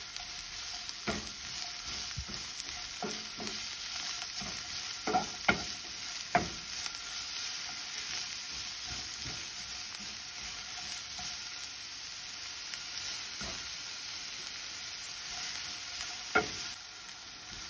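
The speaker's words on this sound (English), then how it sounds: "once you saute your onion and your jalapeno for about 2 minutes, or your onion are getting soft" Onion and jalapeno sautéing in a hot pan for huevos rancheros, a faint steady sizzle broken by scattered utensil scrapes and taps as the vegetables are stirred, without talking.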